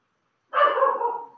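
A single dog bark sounds at close range after a moment of silence, a short, rough yelp that trails off within about a second.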